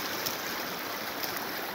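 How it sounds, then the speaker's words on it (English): Rain-swollen creek side channel flowing steadily, a continuous close rushing wash of water with no voices. "this side channel here finally flowing after all the rain we've had"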